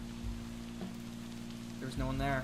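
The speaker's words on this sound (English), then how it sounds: "Everything fell dark and silent again, except for the rain." Steady rain falls in the Bear and Breakfast video game, a soft, even wash of patter that continues under a voice speaking briefly near the end.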